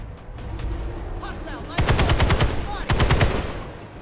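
Rapid automatic gunfire from a repeater weapon in a first-person shooter game, two loud sustained bursts of evenly spaced shots over a steady background hum of battle.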